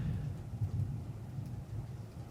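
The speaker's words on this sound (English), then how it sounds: "Suddenly there was a rumbling noise." Low, continuous rumbling of thunder rolls steadily throughout, deep and heavy, with a faint hiss of rain above it.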